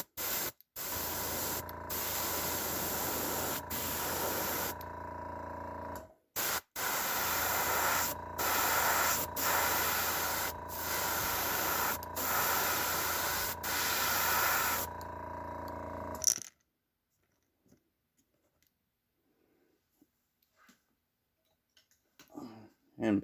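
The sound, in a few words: airbrush spraying paint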